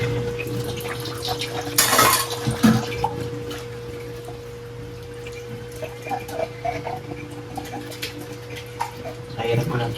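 Hand dishwashing with water in a basin, steady splashing and clinking of dishes under a constant background hum, with brief louder sloshes near the start and end.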